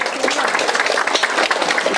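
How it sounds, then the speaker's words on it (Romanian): A room full of people claps warmly at a seniors' evening event in Iași, giving a dense, loud and continuous wash of applause with no speech on top. "să-l aplaudăm!"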